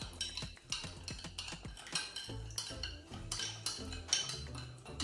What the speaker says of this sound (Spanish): Removemos bien, que se disuelva el azúcar.